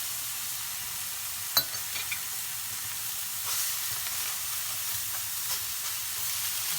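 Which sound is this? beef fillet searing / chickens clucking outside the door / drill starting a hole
beef fillet searing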